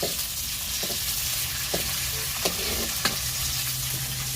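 Curry leaves crackle and sizzle steadily in hot oil in a pan on a wood-fired clay stove, with loud, continuous frying and a few sharp pops, and no talk.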